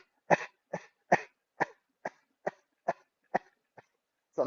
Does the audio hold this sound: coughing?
yes